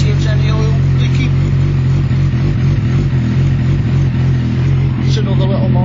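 A Suzuki Bandit 1200 motorcycle fitted with an ignition advancer hums at a steady low drone on a test ride, loud and close, with wind rush and a voice speaking over the engine.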